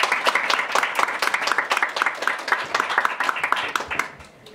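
Hall audience clapping to welcome a lawmaker to the podium at a textile and fashion industry forum, a brisk round of many hands that fades out at the end.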